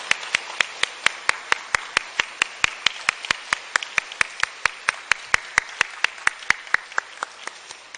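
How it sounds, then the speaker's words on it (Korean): A congregation at a youth-department dedication service at an army headquarters church claps in a steady, evenly spaced rhythm, each sharp clap distinct, for about eight seconds. "잘 살았다라고 우리 박수 한번 크게 한번 쳐주시면 좋겠습니다"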